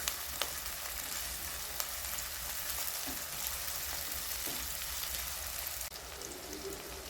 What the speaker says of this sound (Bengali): এতে টমেটোটা তুলে দেবো, দিয়ে এটাকে একটু ভেজে নেবো একসঙ্গে।